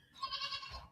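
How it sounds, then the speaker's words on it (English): A goat bleats outdoors in one drawn-out, wavering call of moderate loudness, heard alone without talk. "I love hearing those goats out there."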